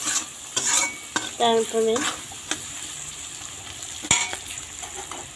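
Turmeric powder stirred into hot oil in a pan before frying pointed gourd, with a steady sizzle under repeated scraping strokes of a spatula and a few sharp clinks; a voice briefly speaks.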